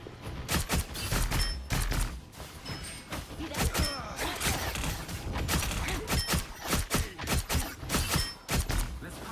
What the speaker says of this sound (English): exploding plasma